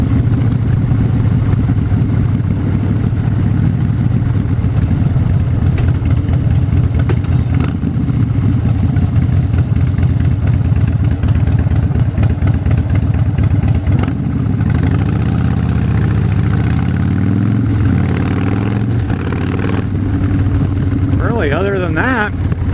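A motorcycle engine idles steadily and loudly throughout, a continuous low rumbling drone with someone talking over it.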